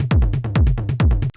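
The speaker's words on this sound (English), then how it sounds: "So right now, together with the kick, these toms sound like this." Electronic techno tom drums layered over a deep rumbling kick, a fast repeating pattern of punchy booming hits with pitched low thuds, loud and dry with no talk.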